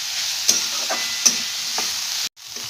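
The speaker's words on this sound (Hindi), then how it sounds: "इसे भी हम 1 मिनट तक फुल फ्लेम पर ही अच्छे से हिलाते हुए पका लेंगे।" Vegetables for veg fried rice frying over full flame, a continuous soft sizzle with a few sharp stirring scrapes and clanks from the pan, no talk.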